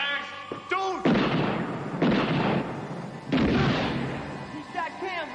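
Gunfire from a TV drama: three heavy, booming shots at roughly one-second intervals, each with a long reverberant tail, close and loud, with a voice shouting between them.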